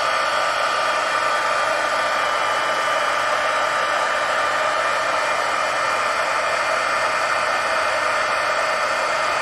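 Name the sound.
heat tool heating stamped pieces to make them shiny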